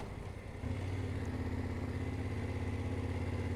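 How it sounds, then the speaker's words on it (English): Motorcycle engines rumble steadily at low pitch in Øvre Årdal's town center, swelling louder after a moment and holding as they idle or roll by nearby. "Quite a lot of bikers though, motorcycles."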